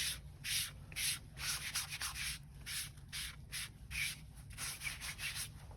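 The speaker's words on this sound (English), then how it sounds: "So we're just doing a quick wipe." A cloth or pad rubs over a freshly scuffed car surface in quick back-and-forth strokes, about a dozen rhythmic swishes close up with no talking.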